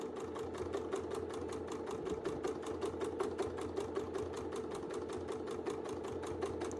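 A sewing machine runs steadily while free-motion quilting, its needle pounding in a fast, even rhythm, close and unbroken.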